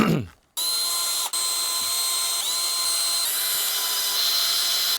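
A power drill drives screws into the wooden boards of a homemade bird feeder, giving a close, loud continuous whine with a brief pause and shifts in pitch as each screw bites.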